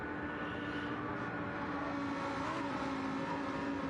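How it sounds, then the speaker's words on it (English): Race car engines drone continuously during a league race in a racing video game, a steady, fairly faint whine of cars at speed with no voices over it. "Love the sound of these cars, actually do sound pretty good"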